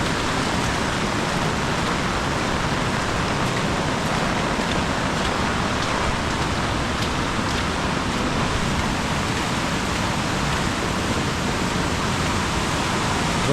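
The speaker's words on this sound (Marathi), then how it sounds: "आत्ता पाऊस पडतोय" Heavy monsoon downpour beside a flooded river in a Konkan village near Khed, Ratnagiri, a dense, steady roar of rain and rushing water filling the whole scene without a break.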